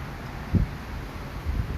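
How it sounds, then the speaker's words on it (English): Steady wind buffets the microphone on a lanai in Waikiki, Hawaii, with a low rumbling gust near the start and another toward the end, no voices. "It's a bit windy today"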